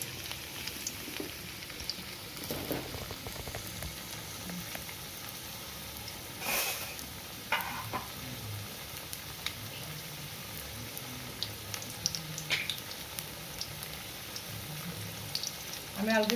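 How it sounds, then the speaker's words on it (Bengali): Potatoes frying in hot oil for a khichuri meal, a low continuous sizzle and bubbling with a few sharp clinks and spatula scrapes scattered through, fairly quiet. "আলুগুলোকে ভেজে নেব।"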